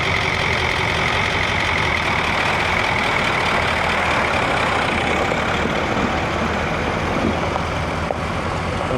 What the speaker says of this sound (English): The muscle tractors are heading out to go plow just down the road.